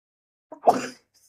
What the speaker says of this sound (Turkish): hapşırdı arkadaşlar